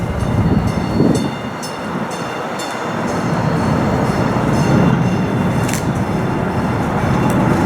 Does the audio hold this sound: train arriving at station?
yes